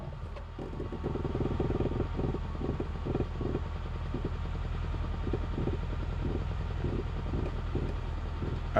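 A freshly restored engine running steadily just after starting, close and continuous with a rough, rhythmic clatter and no smoke, and no talking over it.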